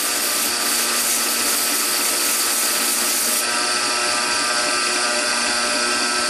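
A belt grinder hollow grinds a knife blade up to the plunge line, giving a loud continuous abrasive roar and hiss that stays steady, easing slightly partway through, with no talking.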